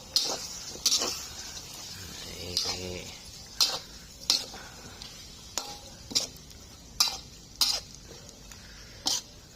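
Spicy field rat curry with eggplant and vegetables is stir-fried, with a low sizzle under a series of sharp, separate scrapes and clacks of a utensil against the pan, spaced about a second apart.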